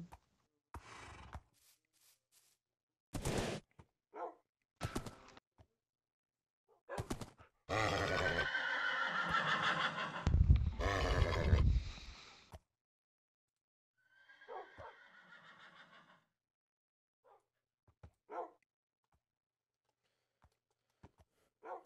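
A horse in Minecraft neighs and whinnies in several separate bursts, including one long loud whinny, alone and fairly close, with quiet gaps and faint softer snorts between.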